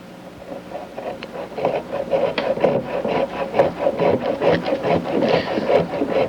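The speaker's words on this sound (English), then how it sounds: "We're using a 7/1000th of an inch thickness saw blade." A 7/1000-inch thin saw blade cuts through a dental die stone, a fine rhythmic rasping scrape that swells and pulses steadily, close and alone.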